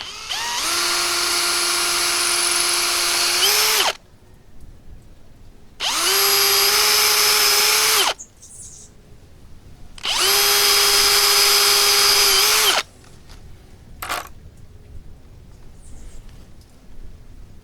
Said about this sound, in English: I'll drill the holes quickly